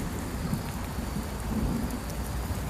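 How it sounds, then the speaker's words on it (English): Rain falls steadily on an outdoor campfire that is still burning hot over glowing coals, making a continuous close hiss and patter with no talking. "Getting a little rain, but she's still burning hot,"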